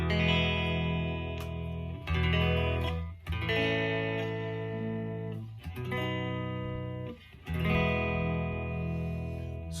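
An electric guitar through a hand-wound custom Princeton Reverb tube amp plays sustained, distorted chords with warm amp tone and reverb, strummed a few times with short breaks, loud and up close.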